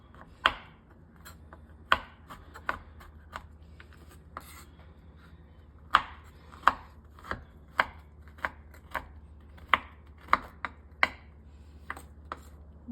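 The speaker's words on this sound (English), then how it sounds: "chop the cacao brick." Knife chopping through a ceremonial grade cacao brick, sharp irregular thunks and cracks sounding alone up close, clustered in uneven bursts with short pauses between strokes over a low steady hum.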